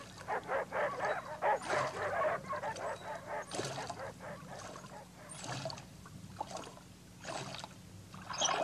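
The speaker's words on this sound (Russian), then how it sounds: "Так это за вами бегут собачки, да?" Dogs chasing a raft on a river, with a run of excited yips and barks close together, then sparser, fainter barking, set against soft splashing water in a 1971 Soviet audio adaptation of Mark Twain.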